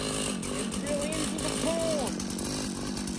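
A motorised ice auger started up for ice fishing in Alaska, its engine running with a steady buzzing drone, close and loud throughout while people talk over it.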